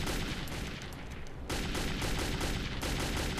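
Gunfire rattles in Metro 2033 as dense, rapid automatic shots crackle continuously and loud, broken by a brief pause before the firing resumes.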